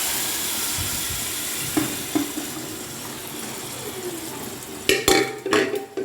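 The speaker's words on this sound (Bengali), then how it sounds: "এবার আমি সিদ্ধ করা মটরটা এর মধ্যে দিয়ে দেবো।" Boiled peas are tipped into a pan of frying turmeric and spices for ghugni, giving soft wet sizzling under a steady hiss, with a few clinks early on and sharper scraping, clattering stirs near the end.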